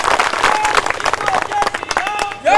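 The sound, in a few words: audience applause welcoming a speaker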